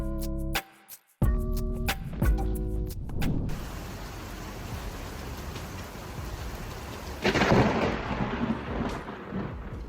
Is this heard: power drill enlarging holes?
no